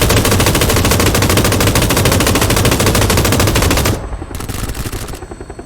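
An M249 machine gun in PUBG fires a long, loud, rapid sustained burst at a helicopter, then breaks into a few shorter bursts that trail off.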